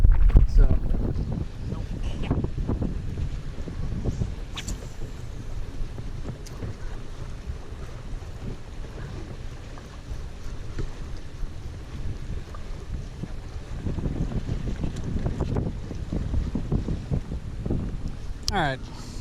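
Wind buffets the microphone and rushes over a lake during early fall bass fishing from a point, a continuous low roar with gusty swells throughout and no clear talk.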